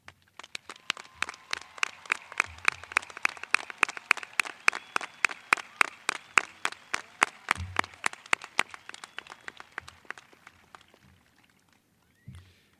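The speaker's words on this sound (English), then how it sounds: "please join me in a round of applause as I ask the Vanguard High School faculty to stand and be" A graduation audience at the 2008 Vanguard High School ceremony in Ocala, Florida, claps for the faculty in a steady, evenly paced rhythm of sharp hand claps. The clapping gradually thins and fades out, leaving a couple of isolated thumps.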